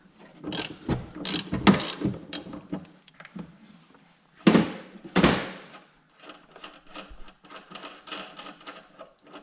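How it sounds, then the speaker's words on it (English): A low-profile ratchet clicks in quick bursts while loosening the drive nut on a Yamaha Enticer motorcycle during teardown, with close, crisp ratcheting strokes separated by pauses and lighter metallic clicks. "So I can just ratchet that over."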